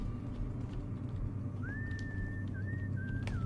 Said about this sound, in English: That's a person whistling.